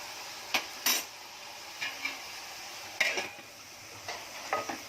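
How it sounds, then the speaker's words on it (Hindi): Onions and curry leaves fry in a spice tempering for a tomato chutney, a soft background sizzle broken by sharp intermittent clinks and scrapes of a spoon against the pan. "ये बघार हो रही है"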